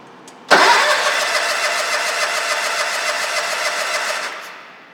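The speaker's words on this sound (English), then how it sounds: "We're going to do an engine compression test" A John Deere 317 B43G engine cranks steadily for about four seconds during a compression test, a loud even churning that starts abruptly after a faint click and fades at the end.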